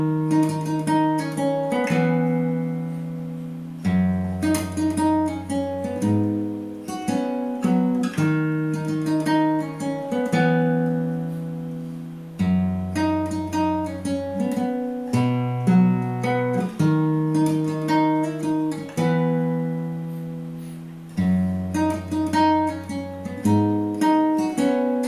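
The first verse of a song played fingerstyle on guitar, with plucked melody notes over ringing bass, steady and clear with no talking throughout.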